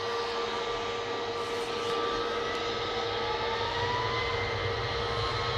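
A Boeing 737-800 airliner at Manchester Airport gives a steady, broad engine roar with a faint whining tone running through it, continuous and moderately distant with no voices.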